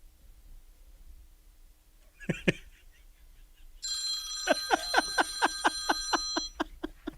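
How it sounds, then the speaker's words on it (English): A telephone rings: a couple of faint clicks, then a loud, trilling electronic bell that repeats in quick pulses for a few seconds and stops. "Jen, let me show you how easy it is to get your phone to ring."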